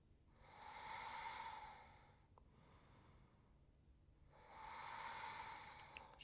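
Slow, deliberate breaths during a hip-opening yoga stretch: one long audible exhale of about two seconds, a quiet pause, then another long breath, close and soft with no talking.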